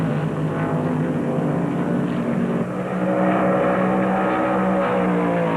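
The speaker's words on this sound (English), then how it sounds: "On the backstretch, Allison closes in, looking for racing room." NASCAR stock cars race at the 1972 Southern 500, a steady loud engine roar with a shift in pitch midway, no voices over it.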